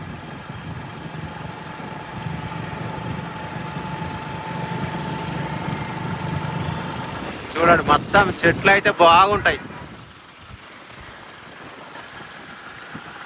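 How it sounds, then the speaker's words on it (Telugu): A motorbike ride past a tree-lined park in Uppal Bhagayath, Hyderabad: a steady engine drone mixed with wind rush, with someone talking over it partway through. "మనం బైక్ మీద వెళ్తున్నాము"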